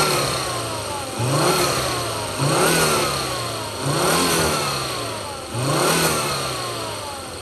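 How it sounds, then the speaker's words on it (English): A 2004 Volvo XC70 Cross Country AWD engine is revved repeatedly, climbing to higher RPM four times and easing back between each, in a steady, fairly close mid-pitched roar. "I'm gonna rev it up a little bit so that you can hear it a little higher RPM."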